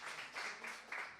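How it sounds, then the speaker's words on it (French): A church congregation applauds during a Sunday worship service: soft, distant clapping that swells and fades in uneven waves over a brief moment. "on peut les applaudir aussi"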